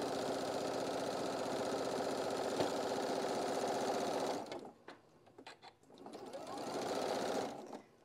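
A sewing machine runs at a steady whirring pace while stitching a seam on a fabric quilt block, then stops briefly and starts again for a second shorter run.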